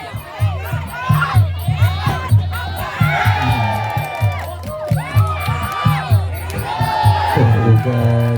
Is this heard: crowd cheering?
yes